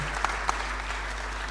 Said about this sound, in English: Please, we will have the round of applause for our panelists.